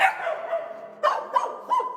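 Dozens of rescued dogs held in kennels bark in short bursts, with a sustained whine at first followed by three sharp barks, fairly close and loud with some reverberation.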